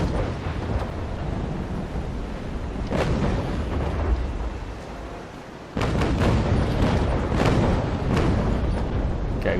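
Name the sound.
sailing ship cannon broadside firing, video game Naval Action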